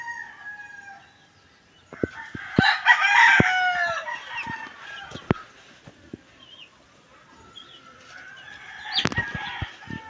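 Free-ranging chickens and chicks around a planted garden plot cluck in bursts, with a rooster crowing loudly and short sharp knocks and pecks in between, fairly close and outdoors.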